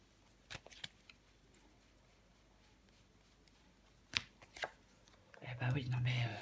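Tarot cards being laid out and handled on a table, a few sharp flicks and slaps of cards scattered between pauses, ending in a louder shuffle, with someone speaking softly around them.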